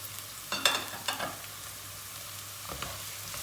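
Carrots and onions with garlic being fried in a pan, a steady soft sizzle with a few scraping stirs of a utensil, close and moderately quiet.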